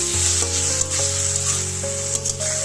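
Potatoes being sautéed with a ground cumin spice paste in a pan for a vegetarian okra chorchori, giving a steady close sizzle with light stirring scrapes, alongside faint sustained musical tones.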